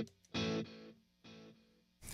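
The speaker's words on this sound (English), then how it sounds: "We're going to hear the tail of the reverb." Sustained guitar chords ring out in bursts, then die away into a soft, washy reverb tail that lingers between the louder strums.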